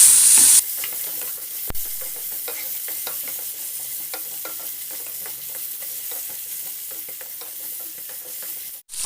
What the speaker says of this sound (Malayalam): ഇനി അതിലേക്ക് നമുക്ക് കുറച്ച് ഒരു പിടി ചുവന്നുള്ളി ഇട്ട് കൊടുക്കുന്നുണ്ട് അതൊന്ന് അതിൻ്റെ കൂടെ വാടിക്കൊടുക്കും